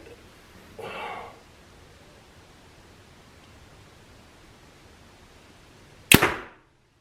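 An arrow shot with an X-Spot three-finger release: a soft whoosh early on, then after a pause a single loud, sharp impact that quickly fades.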